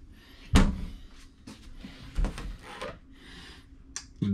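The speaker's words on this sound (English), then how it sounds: "Got some nice drawers here. Them all pull out." Cabinet drawers in a park model tiny house slide out and bump shut, with a sharp wooden knock followed by several softer rolling pulls and thuds, close and moderately loud.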